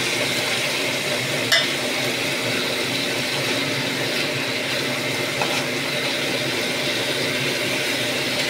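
Fish pieces frying in oil with a cooked spice masala make a steady, close hiss and sizzle that barely changes, broken by a couple of brief clinks.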